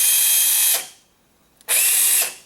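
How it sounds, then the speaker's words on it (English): A powered surgical reamer cuts into toe bone during a total toe joint procedure. A loud, high whirring grind runs for under a second, goes quiet briefly, then starts again just as strongly. "on the dorsal side of the bone, as I'm reaming down, it gets very thin"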